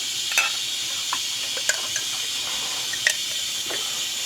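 Beans drop into melted fat in a hot pan, giving a steady close sizzle with a few sharp clatters and stirring scrapes, no talk.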